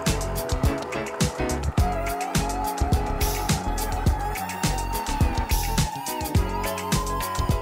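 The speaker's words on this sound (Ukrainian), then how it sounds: "У цьому нам допоможе соковижималка, вона зробить цю роботу за декілька секунд." An electric kitchen juicer squeezes half an orange: a loud, steady motor whine with a rising pitch, and busy rattling and grinding clatter through it for the whole stretch.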